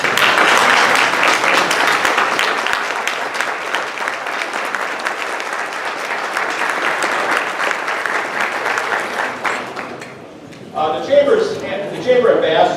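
Sustained applause from a sizable crowd at a congressional district forum, dense and steady clapping that dips briefly near the end before a few louder claps return.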